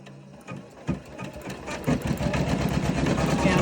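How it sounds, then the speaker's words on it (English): A Janome Cutwork M8 embroidery machine starts stitching a felt patch, its needle building into a steady, fast mechanical chatter with a low motor hum, close and continuous, rising slightly in loudness as it runs. "I'm going to press start,"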